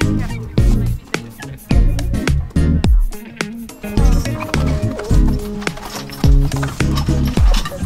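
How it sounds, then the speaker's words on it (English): Team of Belgian workhorses pulling a sleigh, hooves clip-clopping in a steady, loud, close walking rhythm of sharp repeated knocks. "They're a team of Belgian workhorses."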